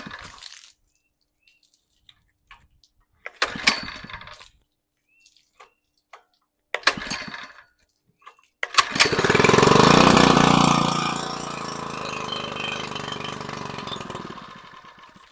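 A Harbor Freight Predator trash pump engine, freshly primed with water and running with a poorly adjusted carburetor, gets a few short pull-start attempts that sputter out before it catches and settles into a loud, steady running roar.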